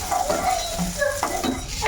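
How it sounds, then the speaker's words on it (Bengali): Panch phoron spices sizzle and crackle in hot oil left from frying pointed gourd, tempering dal, close and lively, with scattered clinks of a utensil against the pan. "এই পটল ভাজার তেলেই একটুখানি পাঁচ ফোড়ন দিয়ে ফোড়ন দিয়ে দেবো ডালটা"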